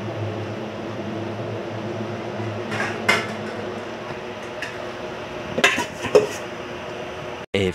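A pot of shrimp with lemon soda and oyster sauce simmering under a steady hum, with a few sharp metallic clinks as a lid is set on and settled.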